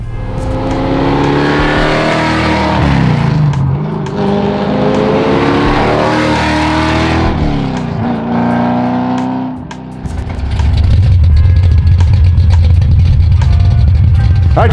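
A raw, purpose-built 1966 Shelby GT350 replica roars past, its loud engine revving and sweeping up and down in pitch before settling into a heavy, close rumble.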